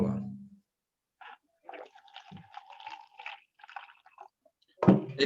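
Plain water being drunk, with a few wet swallowing and slurping sounds after a short opening noise, then a louder splashy gulp near the end; the sounds are close and fairly quiet between them.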